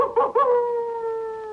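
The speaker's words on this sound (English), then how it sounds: "Rescue dogs." Cartoon rescue dogs let out a loud, close howl that opens with a few short yips and then settles into one long, steady sustained note, with no talking over it.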